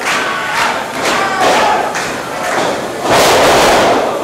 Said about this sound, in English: Oh, he went for the drop kick on the leg.